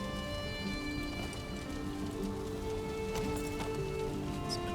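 Heavy rain pouring outside, a constant close rushing patter with scattered louder drops, heard over a faint steady hum, with no talk.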